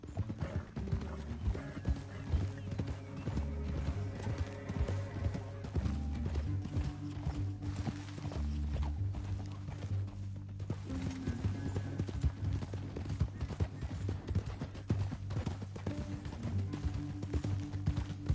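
Galloping horse hooves in Red Dead Redemption 2 clip-clop steadily under a dense, loud wash of music and game ambience, with no clear pauses throughout.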